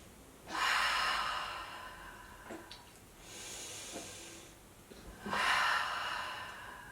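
Slow, audible breaths during a mommy-and-me yoga session, long airy inhales and exhales, close and fairly soft, repeating about three times with quiet pauses between.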